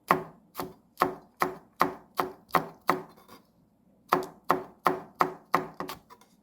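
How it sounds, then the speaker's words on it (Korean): Knife thinly slicing Cheongyang chili peppers on a cutting board gives a fast, even run of crisp chopping taps, a short pause, then another quick series of close, sharp knocks. "청양고추를 얇게 썰어요."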